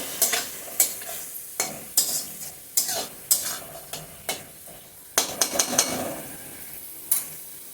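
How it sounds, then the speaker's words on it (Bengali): Red amaranth greens with pumpkin being stirred and fried in a pan with a metal spatula: repeated scraping knocks at a steady rhythm over a soft continuous sizzle. "ঢাকনাটা উঠিয়ে ভালো করে কুমড়োগুলিও ভেঙে দিচ্ছি খুন্তির সাহায্যে। শাকটাকে একটু ভাজা ভাজা করে নিচ্ছি।"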